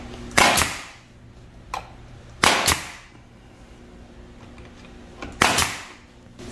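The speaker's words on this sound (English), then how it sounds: "this is a 14 gauge nailer, so we're gonna show you the thickness of the nails" A VEVOR 14-gauge pneumatic nail gun fires three times, each shot a loud, sharp crack spaced a couple of seconds apart, with quieter handling noise between shots and no talking.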